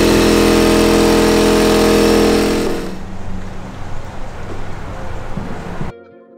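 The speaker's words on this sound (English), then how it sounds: "All of a sudden, just casually using a tire machine." A tire machine runs loud and steady in a shop for about two and a half seconds, then drops to a lower, rougher mechanical rumble before cutting off near the end.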